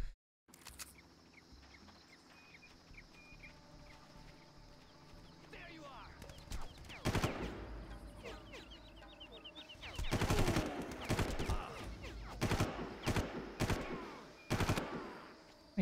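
Gunfire in the video game Far Cry 1 crackles in rapid bursts and scattered single shots, growing denser midway with heavy volleys near the end, mixed with game ambience and a player talking over it.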